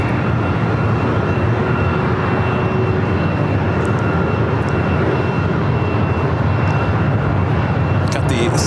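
A Virgin Atlantic Airbus A350-1000 is pushed back at LAX, its engines producing a loud, steady, broadband roar that holds constant throughout.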